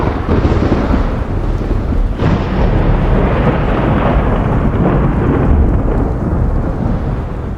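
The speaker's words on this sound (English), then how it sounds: "the thunder make me awake" Deep rolling thunder rumbles through a steady downpour of rain, a long continuous roar that swells and stays loud throughout, with no voices.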